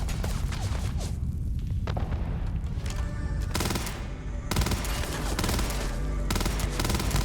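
Rapid bursts of weapon gunfire from the space game Starfield crackle continuously, with dense overlapping shots and booms filling the whole stretch at close, loud level.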